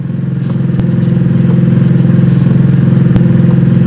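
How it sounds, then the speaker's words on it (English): Loud cars pass by in the VR game Barbershop Simulator, a steady engine drone with clattering ticks and scrapes on top, close and constant throughout. "Those cars are loud as fuck"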